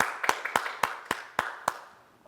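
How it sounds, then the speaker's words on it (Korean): A church congregation claps together in a worship service, about six sharp claps in an even, quick rhythm, fairly close and clear, then a quiet trailing fade. "우리 하나님 감사하며 박수 영광 돌리겠습니다."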